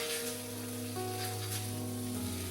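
Seafood and shellfish sizzle steadily in a hot pan, a continuous bright crackling hiss with faint low hum underneath, close and even throughout.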